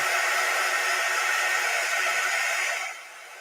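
A hair dryer drying a craft project blows with a steady, breathy whoosh close by, then cuts off near the end.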